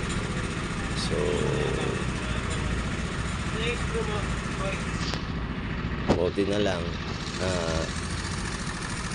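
A Yamaha Mio scooter idles with a steady, low, continuous engine hum, heard under someone talking close by.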